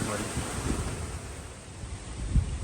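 Wind buffets the microphone outdoors at a palm plantation, making a continuous low rumbling roar with gusty swells and a brief thump near the end, no clear talk.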